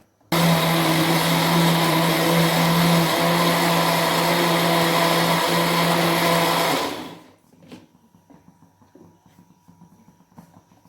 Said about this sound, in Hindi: अब मैं इसमें डाल देती हूँ, इनको मैं ग्राइंड कर लेती हूँ।